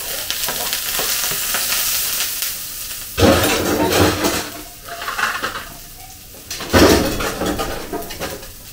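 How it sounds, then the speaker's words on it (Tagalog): Onions sautéing in a home kitchen pan while a meryenda spaghetti is cooked, with steady sizzling and frying hiss, stirring scrapes and pot clatter, and two louder bursts as ingredients hit the hot oil. "So, gigisa muna natin guys."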